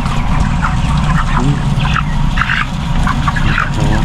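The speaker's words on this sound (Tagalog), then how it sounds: "Hello, chickens!" A large flock of big, heavy chickens fed from an automatic feeder cluck and squawk loudly and continuously, many birds calling over one another close by.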